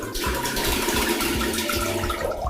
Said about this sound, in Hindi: प्यारे बच्चों, ये देखो फ्लश टैंक। इसे हिंदी में फ्लश टैंक कहते हैं। यह पानी छोड़ता है।